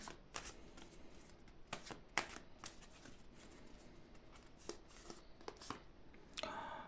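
A deck of tarot cards is shuffled by hand close up, with quick papery riffles and slaps in irregular bursts, ending in a longer rapid riffle, quiet overall.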